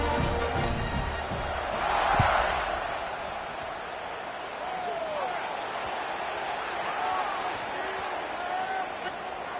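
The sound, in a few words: crowd cheering at a football game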